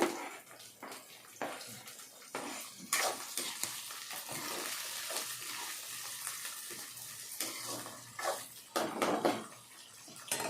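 Tomatoes frying in a pan for a chicken curry give a faint, uneven sizzle punctuated by scraping stirs and clinks of a utensil against the pan.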